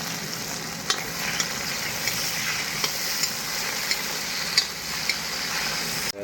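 Potatoes fry in hot oil with onion and green chili as a utensil stirs them. A continuous close sizzle is broken by regular light scraping knocks about every half second.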